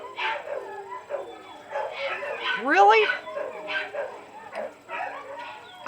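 Pet dogs bark and yip indoors close by during Halloween crafting, with a rising howl-like whine in the middle, while a person speaks over the noise.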